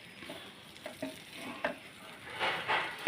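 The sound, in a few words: stirring vegetables, tuber and grated coconut with ghee in pan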